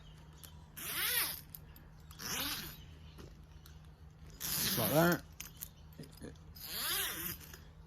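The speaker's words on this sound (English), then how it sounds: "So the kids can unzip it easily and zip it back on when they're in there." The zip entry on a Springfree trampoline net being zipped and unzipped in four separate sweeping rasps, close and clear, with a person speaking briefly in between.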